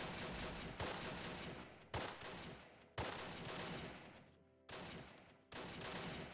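Gunfire crackles in the WWII tactics game Close Combat: The Longest Day, with loud bursts of rifle and machine-gun fire that start sharply every second or so and tail off between shots.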